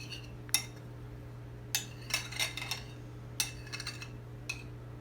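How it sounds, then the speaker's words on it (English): Several sharp clinks of a utensil tapping against a bowl as sauce ingredients including garlic powder are stirred and mixed together, in short irregular bursts over a low steady hum, with no talk. "Mix all this up."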